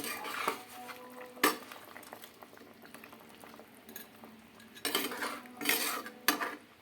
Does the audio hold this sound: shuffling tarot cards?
no